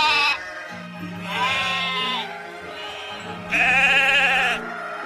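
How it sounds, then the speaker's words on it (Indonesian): A white sheep bleats three times, loud and close, each wavering call lasting about a second with short pauses between, over a faint low background hum. "Widih, ini domba putih."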